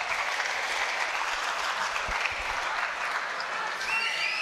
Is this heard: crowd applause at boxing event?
yes